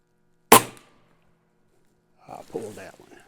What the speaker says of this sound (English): I think this is crazy to try this with an air rifle at 50 yards.